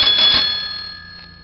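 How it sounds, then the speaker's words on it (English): A bicycle bell on a circa 1915 Hercules bicycle gives one bright metallic ring that hangs in the air and slowly fades over about a second and a half, heard alone with no voices. "Got a little Ooga horn and a bell."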